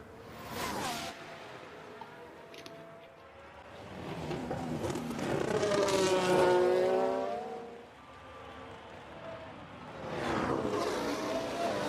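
F1 car engine lapping in F1 Manager 22, a distant whine that swells to a rising, sweeping pass in the middle, fades, then returns near the end, without talking.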